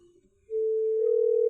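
A telephone dial tone sounds as a call is placed: a faint murmur, then a steady, clear single tone that holds for about a second with no talk.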